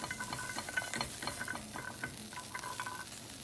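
Almonds being stirred and toasted in a pan until golden, a faint, quiet crackle with light rhythmic scraping of a utensil, close by and without voices.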